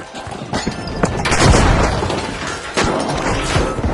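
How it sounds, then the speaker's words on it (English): A frag grenade exploding in the shooter game The Finals, a loud deep boom with crashing debris that swells and lingers, followed by another sharp blast amid ongoing game noise. "Tossing a frag! Sending a frag!"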